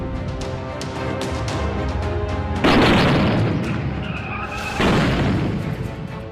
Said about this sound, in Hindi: ये धमाका दरअसल CISF की उस सुरक्षा ड्रिल का हिस्सा है